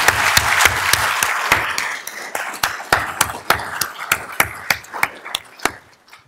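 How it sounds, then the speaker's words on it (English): An audience applauds after student presentations, starting as a dense burst of clapping and thinning to a few scattered, sharp, close claps that fade away. "Let's give another round of applause to our students."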